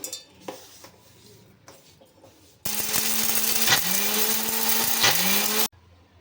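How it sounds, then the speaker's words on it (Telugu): A mixer grinder whirs loudly for about three seconds, blending whole spices into biryani masala for restaurant-style chicken dum biryani, its motor pitch dipping twice as the load shifts, after quieter kitchen clatter and before stopping abruptly. "ఇవన్నీ మిక్సీలో వేసుకొని ఒకసారి మిక్సీ పట్టేసుకుందాం"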